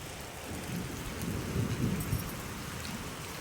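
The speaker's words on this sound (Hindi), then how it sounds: "ये देखो तेज बारिश आ रही है, बहुत तेज।" Heavy rain pours down in a dense, steady hiss, with a low rumble of thunder swelling and rolling through the middle before easing back.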